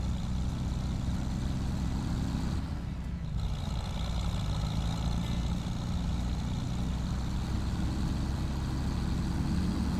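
A tractor engine runs steadily in Farming Simulator 25 with a continuous low, heavy drone at an even level and no other sounds.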